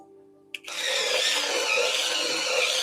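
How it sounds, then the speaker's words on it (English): An electric pencil sharpener grinds a colored pencil, starting with a sharp click and then running as a steady, loud whirring buzz close by with no voices. "I'm going to use my electric sharpener today, so it's going to be a little bit noisy."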